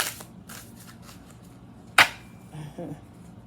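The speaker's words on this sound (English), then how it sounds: "let's get a good shuffle going on here" A tarot deck being shuffled: soft, faint papery riffles and rustles, then one sharp louder snap as the cards are squared or tapped, followed by quieter handling.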